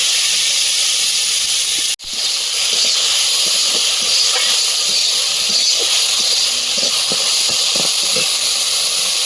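A pinch of dried turmeric fries in hot oil in a wok, giving a loud, steady hiss that drops out sharply for a moment near the start and then resumes close by, with no talking.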